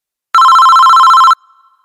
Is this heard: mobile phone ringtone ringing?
yes